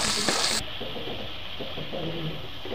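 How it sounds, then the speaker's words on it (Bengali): Chopped tomatoes with salt are stirred and fried in a pan with softened onions for a Bengali prawn and taro-stolon dish, giving a steady close sizzle with a brief louder burst at the start and light stirring scrapes. "টমেটোটাকে নেড়ে চেড়ে ভেজে নেব।"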